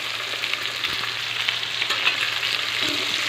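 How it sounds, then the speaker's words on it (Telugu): Chopped bottle gourd pieces go into a pan of frying onions, producing a continuous close sizzle with light crackles and faint stirring, no voices. "ఈ విధంగా ఉల్లిపాయ వేగిన తర్వాత మనం తరిగి పెట్టుకున్న సొరకాయ ముక్కలు వేసుకోవాలి."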